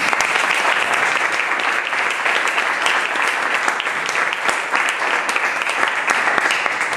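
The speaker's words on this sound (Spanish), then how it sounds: "os pediría un fuerte aplauso para él." Sustained, dense applause from a seminar audience at a business talk in Seville, loud and steady for the whole stretch with no voices over it.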